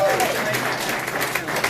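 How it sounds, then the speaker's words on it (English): Conference audience clapping in a continuous wash of applause at a live event, steady and dense throughout the short moment. "Give yourself a warm round of applause"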